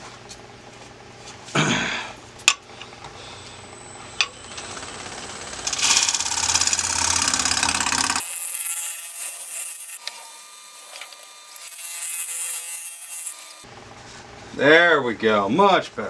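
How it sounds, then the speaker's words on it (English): A wood lathe scrapes a natural edge walnut bowl cut from a log prone to tear-out, giving a sustained, harsh scraping hiss in the middle amid shop clatter and brief speech. "So let me do a little scraping on this side."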